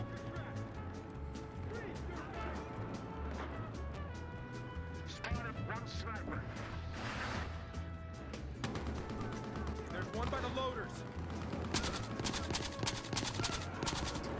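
Gunfire in Battlefield Hardline, scattered sharp shots and bursts with clattering impacts over a busy game mix, growing denser and louder toward the end.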